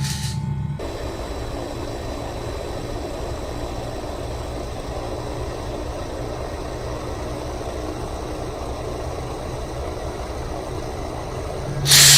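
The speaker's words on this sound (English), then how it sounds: "Still keeping the engine in idle at the moment" A simulated MD 500E helicopter engine idling in a flight simulator at Thruxton, a steady broadband hum and hiss holding level throughout, with a brief louder burst at the very start and end.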